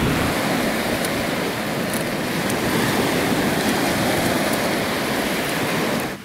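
Steady, dense wash of sea waves breaking on a beach shore, loud and continuous with a broadband hiss and no voices.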